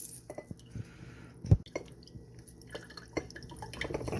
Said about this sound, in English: we're going to juice that orange directly into our pint glass